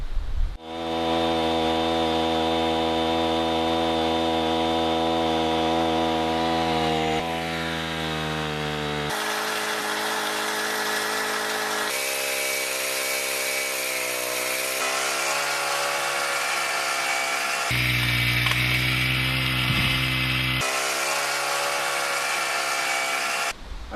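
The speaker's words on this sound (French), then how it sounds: "en tirant sur la corde, quand le tambour va retourner, mon treuil lève" A portable PCW3000 capstan winch turns its drum while hauling rope, giving a loud, steady motorized drone that holds for the whole stretch, shifting pitch in several distinct steps with no voices.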